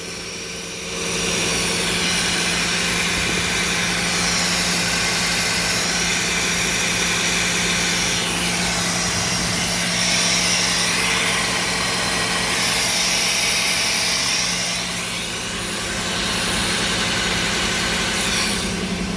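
A rebuilt V8 in a 1989 Chevrolet Camaro runs smoothly at a steady idle, a loud, even drone that swells slightly a few times and carries on for nearly twenty seconds without talk.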